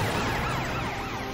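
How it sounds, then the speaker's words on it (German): A cartoon fire truck siren wails in a continuous rising and falling pattern. It is loud and close, with no voices over it. "Super, deine Sirene funktioniert wieder."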